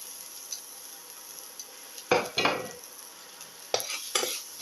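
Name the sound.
stirring salt into a sizzling coconut casserole mix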